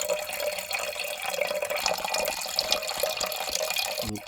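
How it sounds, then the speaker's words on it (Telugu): Water pours steadily into a cooking pot, a continuous splashing trickle with a clunk near the end, close by and with no voices. "ఇప్పుడు సరిపోయినంత నీరు వేసుకుందాం"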